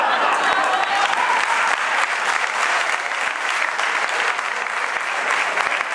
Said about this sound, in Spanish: Con tanto aplauso me estoy animando, muchas gracias.